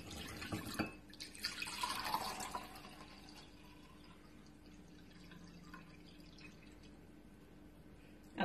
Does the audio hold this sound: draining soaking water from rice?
yes